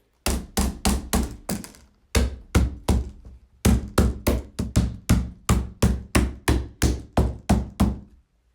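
Mallet knocks driving pegs into a two-layer chicken cage near its doors: rapid, sharp, evenly spaced blows close by, in three runs separated by short pauses, with no voices.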